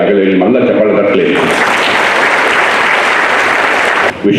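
Loud audience applause at an award ceremony swells up after a brief stretch of voice and music, then fills the hall continuously before cutting off abruptly near the end.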